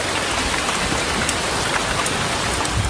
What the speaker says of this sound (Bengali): এত প্রচণ্ড পরিমাণে বৃষ্টি হচ্ছে